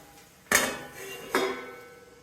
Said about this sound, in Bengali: এবার এটাকে আমি ঢাকা দিয়ে দিচ্ছি